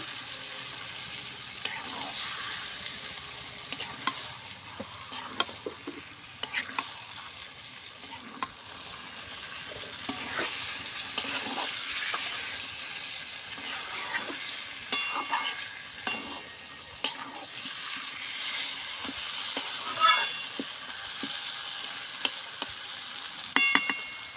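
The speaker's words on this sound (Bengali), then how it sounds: "এবারে মাংসটা আমি দিয়ে দেবো মাংসটা দিয়ে আমি ভালো করে কষাবো" Chicken pieces stir-fried with spices in a pan for a spicy red chicken curry, giving a steady close sizzle with repeated scraping and stirring strokes throughout, no voices.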